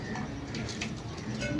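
Pigeons coo softly in a loft, faint, low, repeated calls under a steady background hum with light ticking sounds.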